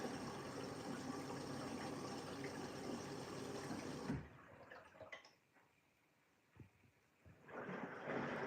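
A Siemens washing machine takes in water for a rinse with a steady rushing gush. The flow cuts off partway through, leaving quiet drips and clicks, and then the water starts again.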